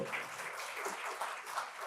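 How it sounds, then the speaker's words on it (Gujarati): An audience claps steadily through the whole stretch at an award ceremony honouring an educationist, a dense, even wash of many hands with no voices standing out. "એટલે પહેલાં તો એ દીકરીઓ માટે તમે તાળી બજાવો."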